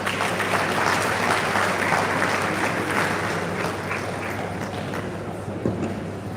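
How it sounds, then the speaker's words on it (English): Sustained audience applause at a professional conference session in Ibadan, Oyo State, filling the room with steady dense clapping that thins slightly toward the end. "Please, one round of applause once again for the Chief Executive Officer"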